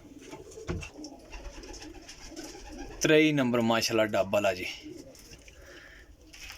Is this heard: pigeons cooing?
yes